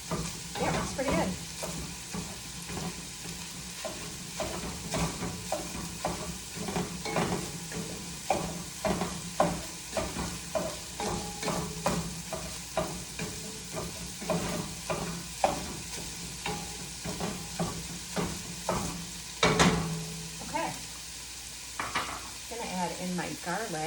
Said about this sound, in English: It's Pampered Chef to cook your ground meat.